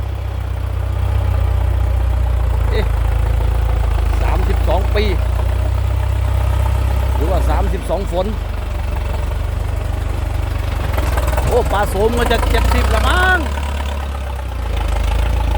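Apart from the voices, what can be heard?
Ford 6640 tractor engine idling, 90 hp, no turbo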